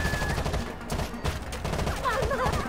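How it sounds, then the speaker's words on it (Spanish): Rainbow Six Vegas gunfire crackles in rapid bursts and volleys, mixed with game noise and voices talking. "¿Qué cojones están disparando?"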